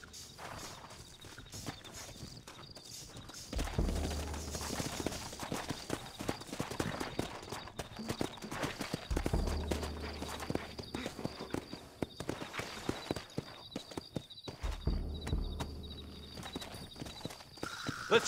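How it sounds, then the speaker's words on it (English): Several horses in the Red Dead Redemption video game plod along with irregular hoof clops, one giving a brief whinny, over a low rumbling game soundscape. "Looks like Carlos left us some horses."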